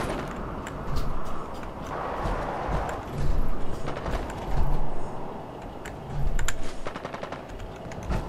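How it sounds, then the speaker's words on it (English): Gunfire in the Fallout 4 video game, bursts of rapid automatic shots in clusters separated by brief lulls, moderately loud over a busy background. "Going towards the shooting or away from it?"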